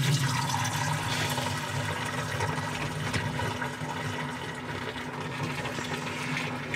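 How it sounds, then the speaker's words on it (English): A toilet flushing inside a camper van, a steady rushing and gurgling of water with a low pump hum running underneath for several seconds, close and continuous. "Flushing the toilet when I pee."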